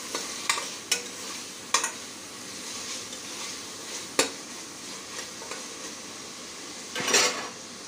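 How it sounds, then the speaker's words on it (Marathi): Chopped tomato and onion sauté in a pan with a soft continuous sizzle, broken by occasional sharp metallic spoon clinks and scrapes against the pan, close and moderate in level, no speech. "टमाटर सुद्धा छान असा परतून घ्यायचा आहे"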